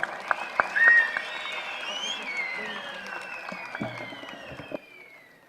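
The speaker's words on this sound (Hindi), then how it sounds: "आप सब जोरदार ताली बजाएं" A crowd at a Congress party rally in Rohru applauds to welcome party president Mallikarjun Kharge, with steady clapping, shrill whistles and cheering voices that slowly fade out.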